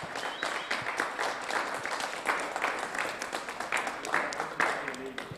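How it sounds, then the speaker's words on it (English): Applause follows a race win by Matt Richards at a Red Bull Ring racing event. Steady clapping from a modest group carries on throughout with pulsing, uneven claps. "A round of applause for Matt Richards."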